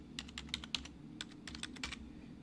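Password keystrokes on a computer keyboard, a quick irregular run of crisp, close clicks over about two seconds with a faint steady background hum and no talking.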